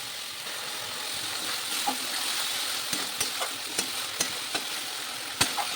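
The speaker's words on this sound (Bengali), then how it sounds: "ভালো করে মশলা কষিয়ে নিচ্ছি।" Spice paste for a Bengali rohu fish curry with potatoes sizzling and frying in a pan, a continuous hiss punctuated by sharp stirring taps and scrapes every second or so.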